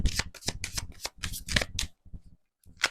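Oracle cards being shuffled up close in a tarot reading, a quick run of crisp riffling bursts and slaps, then a short pause and one more flurry at the end.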